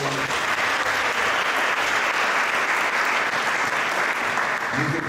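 An audience at a temple talk during a Radhastami celebration claps steadily, a dense, even wash of applause with faint voices underneath.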